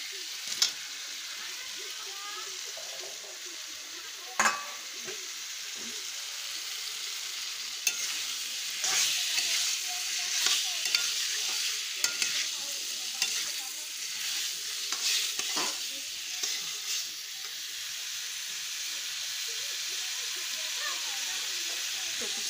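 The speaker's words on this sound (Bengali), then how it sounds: "এইবার দিয়ে দেবো কেটে রাখা কুচে মাছ।" Chopped kuche eel fish stirred in a hot pan of oil, a steady sizzling hiss with scraping stir strokes and occasional sharper clacks of the spoon against the pan, no talking.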